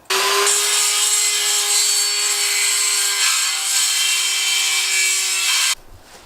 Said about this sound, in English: It needs to be ground down a little bit.